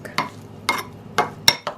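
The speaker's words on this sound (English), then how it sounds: "I'm just going to mix this up" A spoon scrapes and clinks against a bowl while stirring vegan aquafaba mayo into chickpea tuna salad, four sharp, evenly spaced strokes, close and distinct, with no voice.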